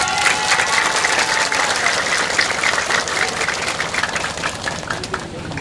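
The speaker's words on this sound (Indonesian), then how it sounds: "Untuk adik-adiknya coba tepuk tangan yang keras." Students at a Saman dance performance clap in a loud, dense burst of applause. It continues steadily throughout with a slight fade near the end.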